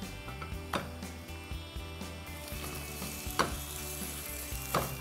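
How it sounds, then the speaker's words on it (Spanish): Frozen mushroom burgers frying in a skillet: a quiet, continuous sizzle with a few soft clicks and taps of a utensil on the pan. "se pueden tirar directamente en el sartén sin descongelar"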